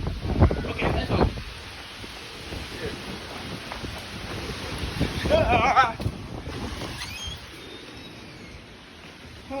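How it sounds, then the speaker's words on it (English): Strong wind gusts buffet the microphone during a hard rainstorm in Arkansas, rumbling in loud bursts near the start and again around the middle, with a steady windy wash throughout and no talking. "I'm getting scared of the wind."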